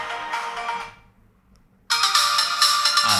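Ringtone-like phone music plays through the small speaker of a Jete FR22 smartwatch, bright and loud, cutting out for about a second before resuming at full level.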